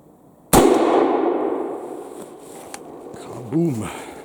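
A customized Prussian M1809/39 Civil War musket fires a single loud, sharp blast whose rumble decays slowly over several seconds. A brief voice follows near the end.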